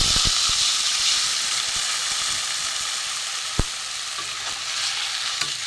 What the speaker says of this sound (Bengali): এবার আমি কিছুটা জল দিয়ে দেবো